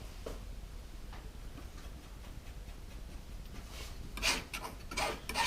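A palette knife drags oil paint across canvas in a close, dry rasping scrape, with soft rubbing strokes that build into louder scratchy passes near the end; no talking.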